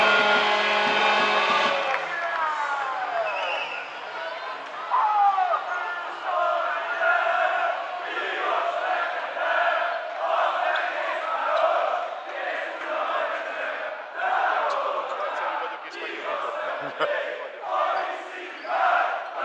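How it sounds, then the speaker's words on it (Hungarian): A Szolnok home crowd cheers and chants at a Hungarian league basketball game against Alba Fehérvár, filling the arena with sustained, pulsing noise for the whole stretch while a commentator talks over it. "Na most nekilendült a szolnoki közönség buzdítása"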